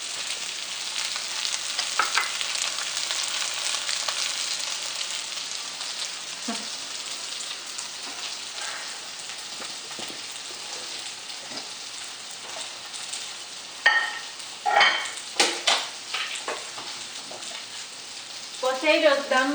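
Potato dumplings (pierogi) frying in a pan, with a steady close crackling sizzle throughout and louder bursts of popping and spatter near the end, while a person talks over it.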